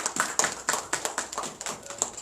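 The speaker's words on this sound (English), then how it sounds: "give a round of applause to the Vice President?" An audience applauds the Vice President at the launch of an online scholarship scheme. The clapping is sparse and close, with a few hands striking in a brisk, fairly even rhythm.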